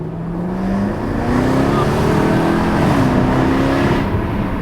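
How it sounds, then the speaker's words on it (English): A Jaguar F-Type SVR's exhaust revs loudly and up close, engine pitch climbing and settling in several rising sweeps with a steady throaty roar. "How can you not sign a series off on an SVR without hearing the exhaust?"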